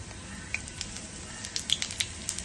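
Cumin seeds crackle in hot ghee in a pan while preparing a vermicelli upma tempering, with faint sizzling and scattered sharp pops.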